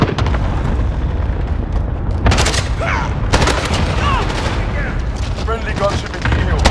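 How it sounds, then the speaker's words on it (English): Cluster airstrike explosions in Modern Warfare land as dense rumbling booms in quick succession, loud and continuous, with faint radio chatter in between. "Friendly cluster strike inbound."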